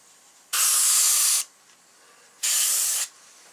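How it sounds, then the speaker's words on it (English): Red spray paint is applied to the gills of a walleye mount in two close, steady hissing bursts of about a second each, with a short quiet gap between them. "Gotta be careful, this red will really spray out."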